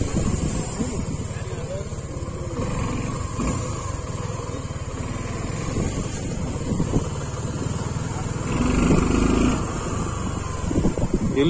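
Suzuki V-Strom 250 motorcycle engine running steadily while being ridden, a continuous low drone with wind rush, fairly loud and constant throughout with a slight swell near the end.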